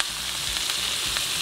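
Steak frying in a pan while being basted with melted butter, rosemary and thyme, a dense, close, continuous sizzle with a few soft spoon scrapes.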